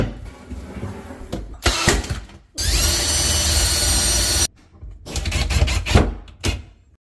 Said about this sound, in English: I'll go with a couple of brad nails and then screw it in